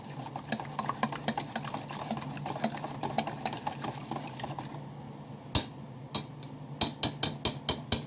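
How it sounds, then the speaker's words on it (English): Ingredients whisked briskly in a bowl, a rapid run of light metallic clicks and scrapes that briefly stops, then resumes as sharper, spaced taps near the end. "So I'm gonna whisk it all up"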